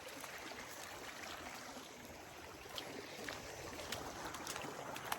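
Water from a lake rushes steadily through the spillway after heavy flooding, a continuous broadband roar at a fairly even, moderate level, heard outdoors with no speech.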